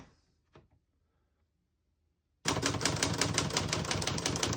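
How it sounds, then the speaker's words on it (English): Rapid, dense key strikes from a 1975 Olivetti Lettera 25 portable typewriter start abruptly after a quiet pause, a loud, even mechanical clatter with no talk. "As you can see, all the keys type nice and none of them skip or stick."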